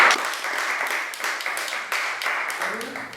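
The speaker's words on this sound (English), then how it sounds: "Round of applause for our finalists." Game show finale audience claps for the finalists, a steady moderate burst of applause lasting a few seconds, with some voices mixed in.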